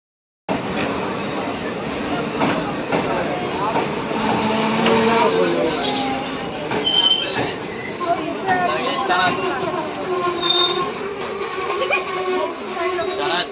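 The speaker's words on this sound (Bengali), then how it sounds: "আর এটা হচ্ছে আমাদের শিলচর এক্সপ্রেস, ঠিক টাইমে চলছে। এখন কুমারঘাটের প্ল্যাটফর্মে দাঁড়িয়েছে" The Silchar Express stands at Kumarghat station platform. Loud, close metallic wheel squeals and screeches carry on and off over a steady rumble of the train.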